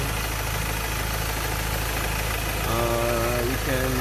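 Ford Ranger 2.2 engine idling with a steady low hum and a faint rhythmic ticking that may be lifter noise, joined near the end by a louder whine that rises and falls in pitch.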